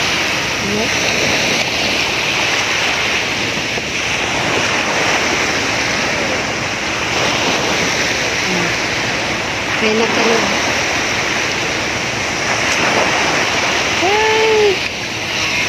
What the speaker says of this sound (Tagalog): Ang laki ng alon, no? Malaki na yung alon.